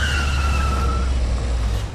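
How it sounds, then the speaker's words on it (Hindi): A car braking hard to a sudden stop, tires squealing in a loud sustained skid over a low engine rumble that eases toward the end. "फोन हमें उठाना है, आपने क्यों गाड़ी रोक दी?"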